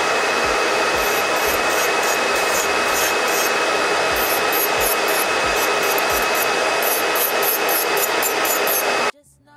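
A nail dust collector fan runs with a loud, steady airy whir and faint rhythmic ticking, continuing unbroken until it cuts off abruptly near the end.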